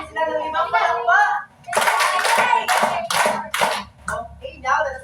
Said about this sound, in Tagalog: Bigyan naman natin sila ng limang palakpak.